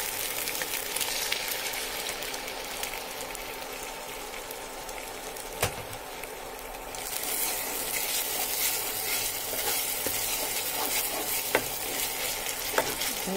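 Liquid ghee frying in a pan for patishapta: a continuous close sizzle and crackle that grows brighter and more intense partway through, with no voices.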